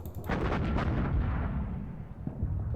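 Artillery fire in the wargame Panzer Campaigns Donbas 43, a heavy booming salvo of several deep blasts in quick succession, then a long rumbling roll that fades off.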